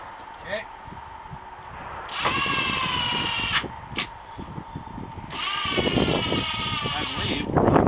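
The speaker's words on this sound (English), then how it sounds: "we'll tighten our screws down." A power drill tightens screws down in two sustained whirring runs, each lasting a few seconds, close and fairly loud, with quieter handling noise in between.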